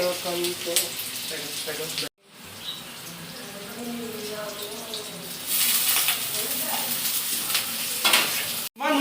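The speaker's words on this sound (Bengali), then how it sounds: "আর এখানে এই যে পেঁয়াজ ভাজা চলছে" Onions fry in a pan with a steady sizzle and stirring, broken by two abrupt cuts, under soft voices in the background.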